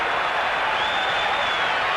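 Boxing arena crowd roaring for Paduano during a grandstand last-round finish, a steady, dense wash of cheering and clapping throughout with no clear pauses.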